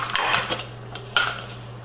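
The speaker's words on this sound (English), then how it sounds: "So I'm going to put 1 heaping spoon" A serving spoon scoops heaping spoonfuls of food, giving a few close metallic scrapes and clinks against a dish, brief and fairly quiet.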